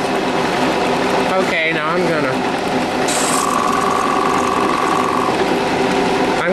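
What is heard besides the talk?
cutter running on rotary table, cutting graphite molds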